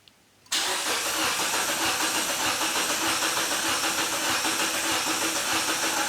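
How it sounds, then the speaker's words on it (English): A car engine fitted with a Subaru throttle body cranks briefly after a moment of quiet, then catches and runs at a loud, steady idle with no one talking. "We've got a very basic map in there that should at least let the car crank and start."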